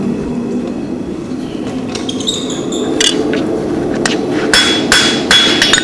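A blacksmith hammers hot metal on an anvil to taper stock for a scroll, the sharp ringing blows landing in an uneven rhythm over a constant background rumble of the forge.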